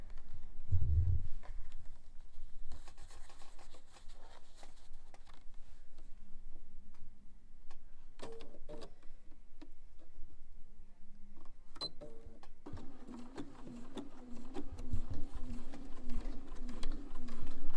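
A Bernina 570 sewing machine stitches slowly, making quiet, uneven mechanical ticking and clicking that stops and starts, then settles into a faster run near the end.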